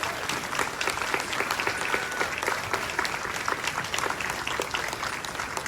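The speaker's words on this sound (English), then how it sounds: "round of applause for Mrs. Karen, Mrs. Hendrian, and the ROSARY-MARMION Orchestra." An audience applauds a school instrumental concert orchestra, a thick, even wash of clapping hands from a full hall, steady and unbroken from start to finish.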